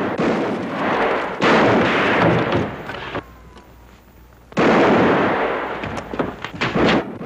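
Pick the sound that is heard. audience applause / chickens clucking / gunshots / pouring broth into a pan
gunshots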